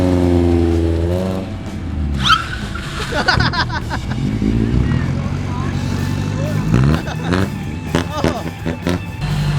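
A drift car's engine revs and surges while the handbrake is pulled, loud and close, with rising and falling pitch under excited talking.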